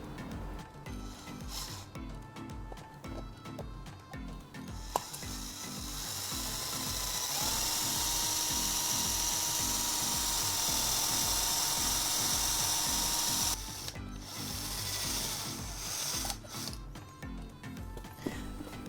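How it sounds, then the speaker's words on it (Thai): An electric drill bores a hole into a two-pin power outlet to fit a three-pin plug, its whine building to a long steady grind, with ratcheting clicks and handling knocks before and after. "ใช้สว่านเนี่ยฮะ มาเจาะรูให้เพิ่มให้มีรูขึ้นมานะครับ"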